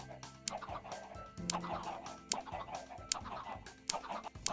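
Minecraft chickens clucking in a busy cluster, short repeated clucks and sharp clicks overlapping at close range over a steady game background, with no talking.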